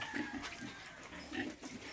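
Young grower pigs on a backyard farm grunt and oink in soft, repeated bursts over a constant low background hum, fairly faint and heard without talk.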